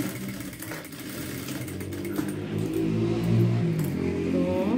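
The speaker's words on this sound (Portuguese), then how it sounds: "Passo uma costura, vira e rebate." A sewing machine stitches a seam on fabric, a rapid mechanical whirring with rhythmic needle clatter that builds slightly louder toward the end, close and steady without speech.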